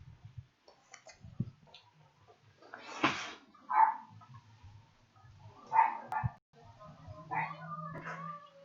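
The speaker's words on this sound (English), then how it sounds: "can you get the dog to be quiet?" A dog barks several times in short bursts amid a room, its yaps sounding at moderate distance with quiet gaps and faint background noise between them.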